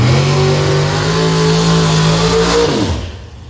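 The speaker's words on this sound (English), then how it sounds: "Can't go wrong with more drag racing." At Beech Bend Raceway during an outlaw drag racing event, a race car engine holds a loud, steady high rev up close, then cuts off sharply near the end and fades into the background.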